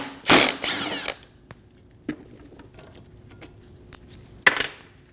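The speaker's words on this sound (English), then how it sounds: "Using a 14mm socket, remove the caliper bolts." A ratchet with a 14mm socket loosens the rear brake caliper bolts on a 2012-2022 Volkswagen Passat. Two loud bursts of metallic ratcheting come close up, with scattered clicks and taps in between.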